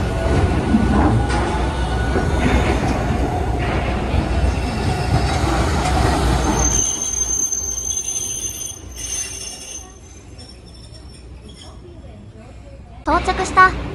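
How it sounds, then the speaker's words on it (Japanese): Hiroshima Electric Railway trams, including a 700-series car, pass through Hiroshima Station as the level crossing closes, rumbling loudly and then fading, with thin wheel squeal and clatter and a brief sharp burst near the end, while a voice speaks over it. "道路側の信号が赤になり、踏切が閉まったので到着発車双方の電車が通過していきました。"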